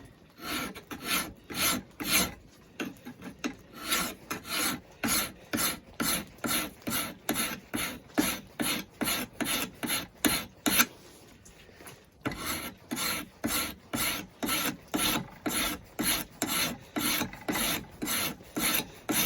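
A steel knife blade for a rifleman's knife is hand filed in steady back-and-forth rasping strokes, close and even in rhythm with a brief pause midway, and no talking.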